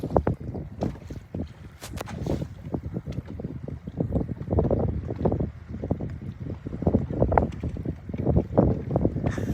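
Strong wind gusting across a lake from a small fishing boat, buffeting the microphone in uneven rumbling bursts with water slapping nearby, no speech.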